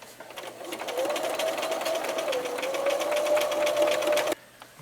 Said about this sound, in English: you're going to sew across the bottom at the same time